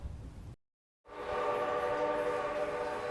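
A train rolls along busy railroad tracks near student housing, its sound briefly cutting out before a loud, sustained horn blast and rumbling cars take over and continue steadily.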